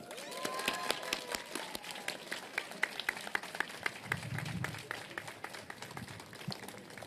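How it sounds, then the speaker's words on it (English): Audience applause at a groundbreaking ceremony for 55 Hudson Street, a steady wash of many hands clapping throughout, fairly close and unbroken, with a few voices mixed in. "Please give the incredible Angie Liu another round of applause."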